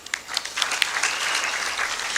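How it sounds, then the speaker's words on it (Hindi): An audience at a spiritual discourse gives a short round of applause, many hands clapping in a steady, moderately loud wash with a few sharper claps standing out. "तालियां।"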